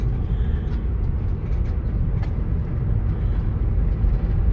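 Car engine and road noise hum steadily from inside a moving vehicle on the way to the store, a constant low rumble with no speech.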